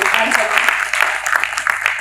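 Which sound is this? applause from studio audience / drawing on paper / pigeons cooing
applause from studio audience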